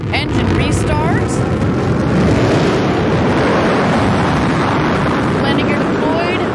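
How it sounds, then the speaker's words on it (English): The New Shepard booster's BE-3 rocket engine restarts during landing, producing a loud, continuous broadband roar that holds steady throughout while voices talk over it. "we're going to get the BE-3 engine to restart"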